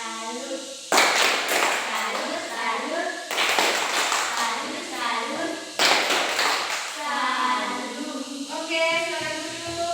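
A school class performing the tepuk salut clapping routine, three rhythmic bursts of group hand claps in a classroom, each accompanied by children chanting together.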